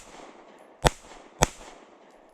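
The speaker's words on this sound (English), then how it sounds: "We're going to stay here at 10 yards. Just shooting down the middle here." Two sharp, loud pistol shots from a Fusion Firearms XF PRO striker-fired pistol at an outdoor range, fired at 10 yards, spaced about half a second apart over quiet background with no talking.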